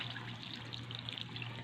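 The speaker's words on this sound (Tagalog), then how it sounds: "Lagyan natin ng isang basong tubig" A glass of water poured steadily into a cooking pot with fried potatoes and carrots, a continuous soft splashing trickle with no voices.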